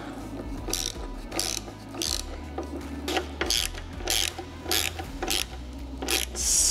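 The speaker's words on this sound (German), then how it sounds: "Und dann schrauben wir das gleich richtig bombenfest." Ratchet tightening the nut on a lowering shock of a Harley Sportster, a steady run of close clicking bursts in repeated strokes with short pauses between them, no talking.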